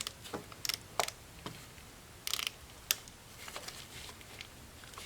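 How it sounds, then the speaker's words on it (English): A socket on an extension turns against a spark plug in a Ford Escape engine bay, giving a few faint, sharp mechanical clicks and ratchety ticks separated by quiet gaps. "So let's turn the extension so we could feel the socket grab the plug."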